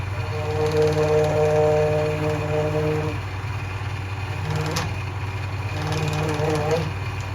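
A spinning machine hums steadily as it picks stitching out of the welt during a Red Wing 8002 boot resole, with pitch dipping under load midway; a voice talks over it.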